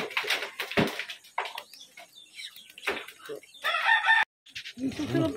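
A rooster crows loudly nearby, its call rising and falling, mixed with clucking and pigeon sounds close to the microphone.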